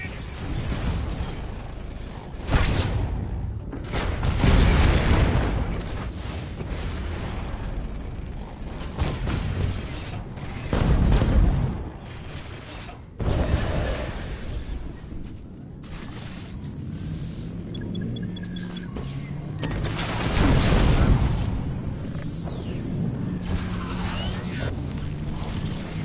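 Kinetic pulse missiles bursting in the Archangel mech shooter, a series of loud booming blasts spread across the stretch over a steady mechanical rumble and clanking game noise.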